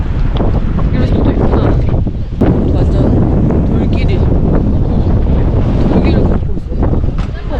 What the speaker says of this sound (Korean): 바람 갑자기 왜 이렇게 또 많이 불지?